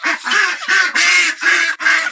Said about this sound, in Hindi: शोर कितना ज़्यादा कर रही हैं हमारी डक्स